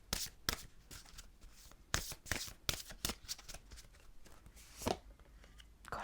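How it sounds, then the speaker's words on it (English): Oracle cards are shuffled repeatedly up close, with soft riffling bursts and flicks in an uneven rhythm, fairly quiet and without talking. "I'm doing so much shuffling and everybody gets abundance."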